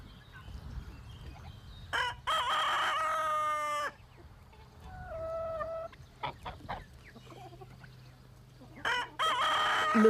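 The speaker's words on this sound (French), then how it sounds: "la basse-cour se réveille avec le chant du coq" A rooster crows in a farmyard at dawn, two long loud crows with rising harmonic calls, plus softer clucks and bird calls between them over a low steady background hum.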